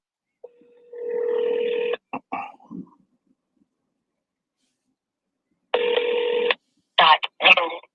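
A telephone keypad plays a run of dialing tones as a call is placed, a sustained tone followed by short separate beeps, clear and close in otherwise quiet surroundings.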